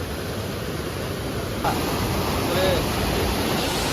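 Steady, broadband rushing of water pours continuously, loud and close, a heavy flow spilling over the old Kalingarayan dam weir on the Bhavani river, with no other sounds standing out.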